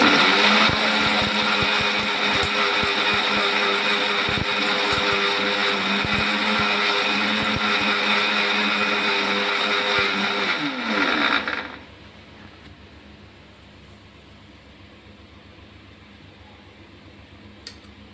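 A mixer grinder whirs loudly as it grinds idli dosa podi spice mix to a fine powder, running steadily for about eleven seconds before abruptly stopping, leaving a quiet hum behind.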